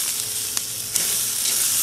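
Chicken fajita filling stir-fries over a hot flame, a steady bright sizzle with a couple of brief stirring clicks, close and alone without talk.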